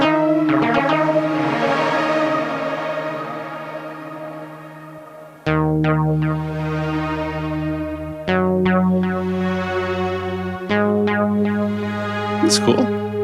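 A synth run through the Arctic wash reverb-on-delay setting of an IK Multimedia X-time pedal: sustained chords swell into a dense, smeared wash with echoing trails, shifting to new chords every few seconds, loud and without talk.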